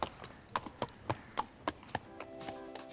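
Arabian horses at the Mona remount depot in Pakistan clip-clop along in a steady, fairly close hoof rhythm of about a dozen distinct strikes, with faint sustained tones rising in the background toward the end.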